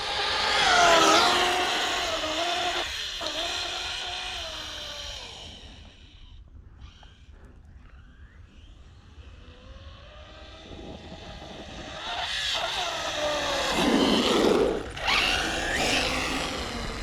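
Electric motor of an RC car with a ZTW G2 speed controller whining up under throttle, a loud rising and falling wail that dips into a quieter stretch midway, then surges again before cutting out, with no talking.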